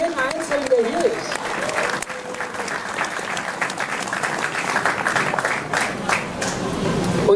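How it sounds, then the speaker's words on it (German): A crowd at an outdoor vigil breaks into sustained applause, a broad rustling clatter of many hands with chatter and voices underneath, lasting the whole stretch. "Super, also ein Applaus für euch, für jeden Einzelnen, der hier ist."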